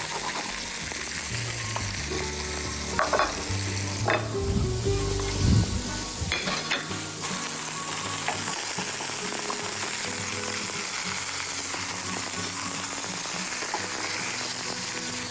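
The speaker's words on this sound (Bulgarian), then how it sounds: "Когато готвя риба меч, загрявам мазината на много силна температура, преди да сложа рибата в тигана." Swordfish sizzles and crackles in very hot oil in a pan, a dense continuous frying hiss with a few louder clatters of the pan and stirring early on, no voices.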